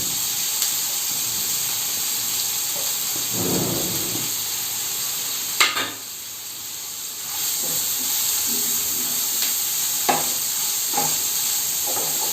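Finely chopped onions and cumin fry in a pan for egg pepper masala, giving a continuous loud hiss and sizzle with a few sharp stirring knocks and scrapes.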